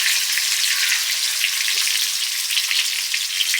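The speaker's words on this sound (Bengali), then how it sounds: "যেটুকু ঘি বেশি হয়েছে ওতে আলুটা ভেজে নেবো।" Potatoes fry in leftover ghee from making a ghee biryani, a loud, continuous, crackling sizzle close by, with no voices.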